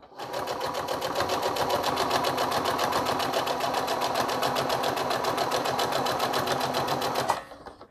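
A sewing machine runs in one steady, unbroken stitching burst while hemming a hand towel, loud and close for about seven seconds before stopping abruptly.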